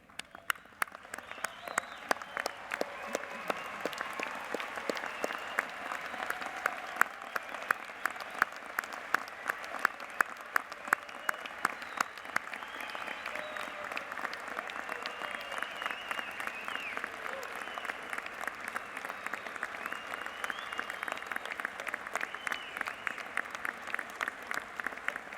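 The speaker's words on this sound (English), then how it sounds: "let's stand up and let's just clap for them for a second" An audience rises and applauds the Spring 2017 veterinary medicine graduates at Washington State University's commencement. The ovation is dense, steady and sustained, with many hands clapping for the whole stretch.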